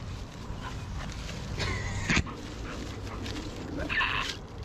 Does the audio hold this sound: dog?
yes